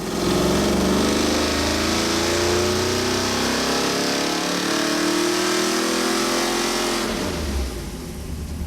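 A Chevy 454 V8 in an '85 Monte Carlo roars hard on a dyno at high, steady revs, its pitch climbing gradually before the throttle drops off sharply near the end.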